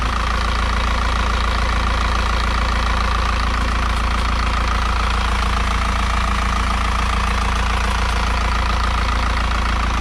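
Isuzu NPR truck diesel engine idling at steady revs, a continuous loud low rumble with a faint knocking texture, running alone without talk throughout.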